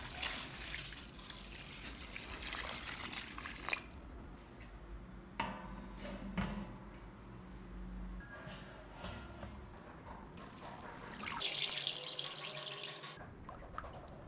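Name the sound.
tap water running while watering mung bean sprouts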